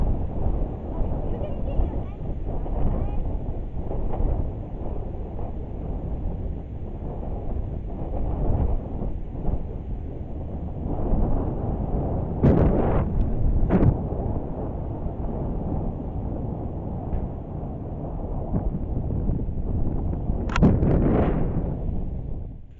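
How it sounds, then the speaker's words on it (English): Gusty wind buffets the microphone outdoors during kite flying, a steady broadband roar with stronger bursts around the middle and end, close and fairly loud throughout. "it's super gusty right now."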